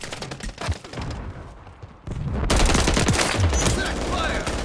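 Rapid automatic gunfire bursts in Call of Duty, loud and close with dense chattering shots, while players shout callouts over the shooting.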